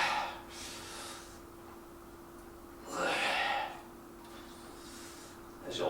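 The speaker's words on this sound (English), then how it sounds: "Hopefully heavy breathing doesn't bother you." Heavy, breathy exhalations from a person working out an arms-and-shoulders routine, coming in a few broad bursts separated by quieter pauses, close to the mic over a steady low hum.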